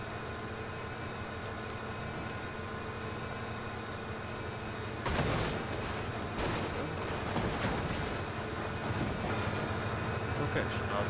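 A video game train runs after being hooked up to a vehicle, its steady rumbling drone of rail noise carrying throughout, with a burst of heavier clanking and rattling partway through.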